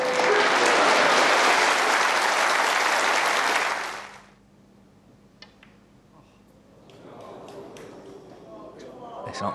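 Snooker crowd applauding at a final, a loud, dense burst of clapping for about four seconds that fades out, followed by a quieter hall with faint murmurs and scattered sounds.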